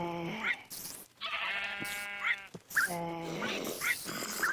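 A Minecraft parrot mimics a sheep in the game, giving several short harmonic bleats in a row, with a low growl-like sound between them.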